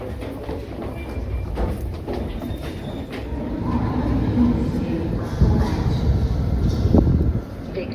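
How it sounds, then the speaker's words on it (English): Interior of a moving train from Cambridge toward London, a continuous low rumble and rattle of wheels on track that swells midway, with occasional knocks and a voice speaking over it. "The train is pretty much empty."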